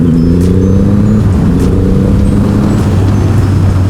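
Triumph Rocket 3 R motorcycle with its 2500cc engine pulling hard in third gear while overtaking, a loud droning engine note with rising harmonics under rushing wind.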